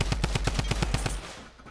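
Rapid automatic gunfire in Fortnite, about ten evenly spaced loud close shots in a quick burst, then fading out to near quiet.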